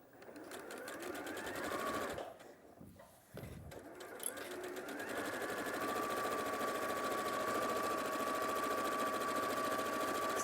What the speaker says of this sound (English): we're just going to use a 1/4 inch seam allowance and to just sew along that top raw edge